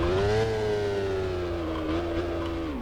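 Steady harmonic drone of a McLaren F1 engine in a racing video game, held at a constant high pitch that rises slightly, dips, then eases off, loud and continuous with no talking.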